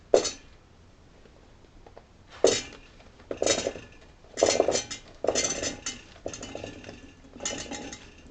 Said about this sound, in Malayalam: ഇനി ഇതിലേക്ക് നമ്മൾ നമ്മുടെ ലോലോലിക്ക ഇട്ട് കൊടുക്കുകയാണ്.